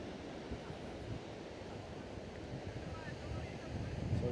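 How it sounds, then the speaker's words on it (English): Wind gusting at a beach on the Gulf of Nicoya in Costa Rica, a steady broadband rush close to the microphone that swells slightly toward the end, with faint surf or water underneath. "The wind is very relaxing, very refreshing"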